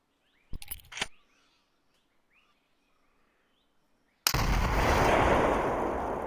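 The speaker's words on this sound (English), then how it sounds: "Show them how the frag grenade works." Frag grenade blast during basic military training: a loud, broad roar erupts and sustains to the end, preceded by a short burst of sharp cracks and a quiet pause with faint birdsong outdoors.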